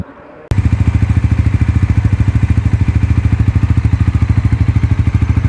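A Bajaj Pulsar NS400Z motorcycle starts abruptly and idles loudly close by, its exhaust giving a steady rapid thumping pulse that runs without pause to the end.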